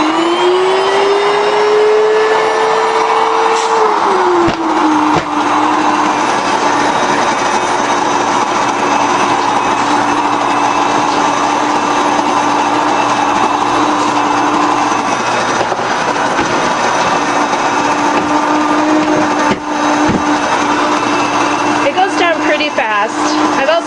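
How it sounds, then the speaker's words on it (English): An electric wheat grinder milling three cups of whole Kamut grain gives off a loud, steady motor whine with a dense grinding roar, running continuously and close throughout with a brief pitch drop early on. "I've got my electric wheat grinder, and I'm going to start with 3 cups of whole Kamut."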